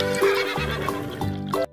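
A person's voice imitates a horse whinnying while playing with a toy horse on a toy farm. It gives several close, loud, wavering neighs in quick succession.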